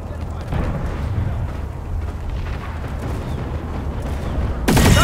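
Gunfire in the video game Planetside: a dense, rumbling roar of continuous shots and blasts at steady volume, rising into a louder, harsher burst near the end.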